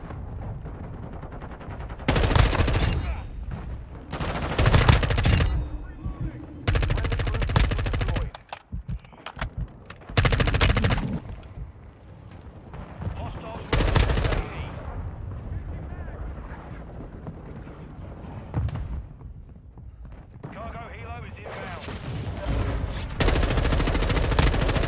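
Bursts of M4 rifle fire in Call of Duty: Modern Warfare 2 come in loud, irregular clusters separated by quieter gaps, mixed with other battlefield gunfire and explosions.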